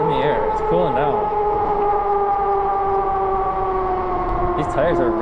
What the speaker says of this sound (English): These tires are real loud.